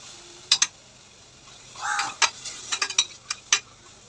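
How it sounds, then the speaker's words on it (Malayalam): Peeled tomatoes are mashed in a pan with a utensil, producing scattered sharp metallic taps and scrapes against the pan plus a brief soft squelch, close and intermittent with no talking. "ഇതിലേക്ക് നമ്മൾ തൊലി കളഞ്ഞ തക്കാളി ഇട്ട് നന്നായി മാഷ് ചെയ്തെടുക്കാം"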